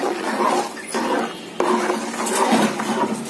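Tamarind, turmeric and salt masala mixed in a pot for traditional rock fish kulambu, with close scraping and clinking of a utensil against the pot and a wet churning sound in uneven strokes.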